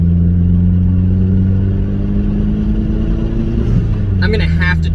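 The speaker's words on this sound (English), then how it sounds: "This is the last drive in my MR2 Turbo." A Toyota MR2 Turbo drives with a steady, close engine hum and low rumble, its pitch easing slightly, while someone talks over it, ending in a brief burst of higher noise.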